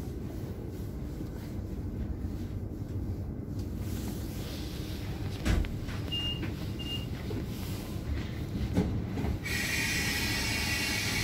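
Ambience of Frankfurt main train station: a broad rumble of rail traffic and hall noise with a few squeals, clanks and short electronic beeps, fairly loud and continuous, no voices.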